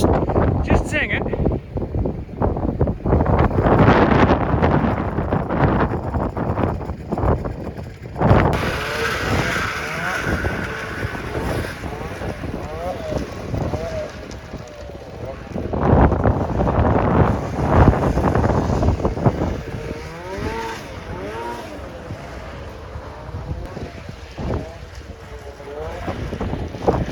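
A John Deere snowmobile rides down a winter road, its engine revving and droning loudly through heavy wind buffeting on the microphone. The engine pitch rises and falls as it speeds up and eases off, and a voice talks over parts of it.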